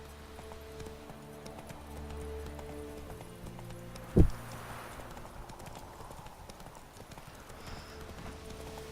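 Faint rhythmic horse hoofbeats in the video game The Witcher 3 clatter at a quick pace beneath low ambient background sound, with one sharp thud near the middle.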